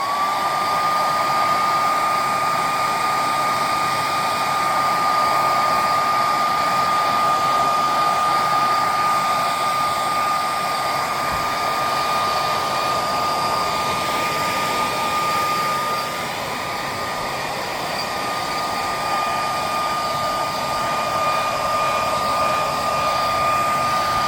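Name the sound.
hairdryer heating window insulation film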